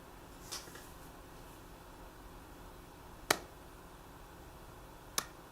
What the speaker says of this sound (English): Watch how high it goes when I clap my hands.